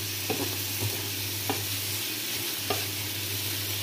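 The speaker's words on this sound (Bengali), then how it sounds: "তো মাছের জন্য হচ্ছে এই যে মশলাটা আমার কষানো হয়ে গিয়েছে" Spice paste for fish sautés and sizzles in a pan, a steady frying hiss broken by a few sharp scrapes of stirring, close and alone.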